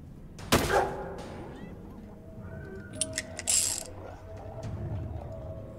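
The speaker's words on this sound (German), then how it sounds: "Jetzt knall die ab." A single sharp gunshot in the turn-based game Stygian: Reign of the Old Ones, followed by fainter mechanical clicks and clatter, with voices speaking briefly over it.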